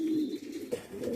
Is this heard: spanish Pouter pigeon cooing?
yes